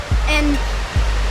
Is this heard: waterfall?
yes